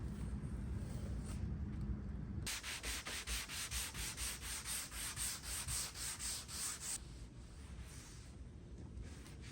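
A wooden dresser being sanded, a steady rubbing rasp with rhythmic back-and-forth strokes through the middle, close and fairly quiet, with no talking.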